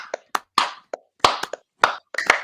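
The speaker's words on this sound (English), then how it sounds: "Everybody, slow clap." A slow clap from a few people, about eight sharp hand claps at an uneven, gradually quickening pace, close and clear against silence.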